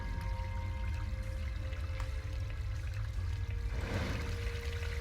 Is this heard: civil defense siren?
no